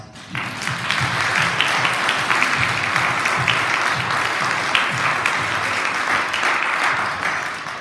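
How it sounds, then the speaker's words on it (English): Church congregation applauds veterans, a sustained round of many hands clapping that swells quickly and holds steady before easing slightly, with no talk over it. "let's give them a round of applause"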